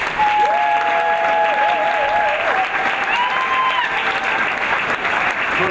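A church congregation applauds in a loud, continuous burst of clapping that fills the room, with voices cheering and singing tones rising above it.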